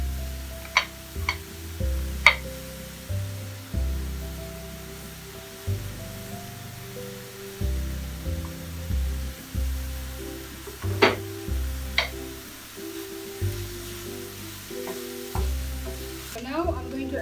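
Garlic, onions and sweet corn fry in a pan with a steady sizzle, broken by repeated scraping stir strokes and a few sharp utensil clinks, close and continuous with no talking.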